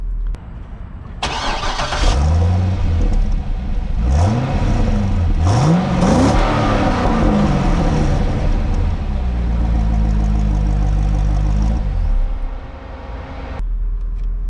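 A Chevrolet Corvette C6 convertible's 400-horsepower LS2 V8 with a 6-speed automatic, loud and close, revving through several rising upshifts before settling into a steady drone and easing off.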